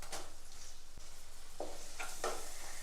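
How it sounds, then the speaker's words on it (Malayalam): Spices and tomato sizzle softly in a pan for a Kerala brinjal curry, a faint steady hiss with a few scraping stirs of a spoon near the end. "എല്ലാം കൂടി ഒന്ന് ഇളക്കി കൊടുക്കാം."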